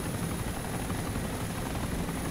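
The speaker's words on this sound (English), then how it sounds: "Got a chopper to his right." A helicopter in the video game DayZ drones steadily and loudly throughout, a continuous rotor and engine roar with no talk over it.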